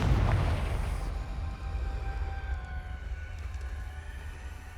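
An explosive Confringo spell from the Hogwarts Legacy video game sets off a loud, deep boom, then a long rumbling tail with faint ringing tones as it dies away.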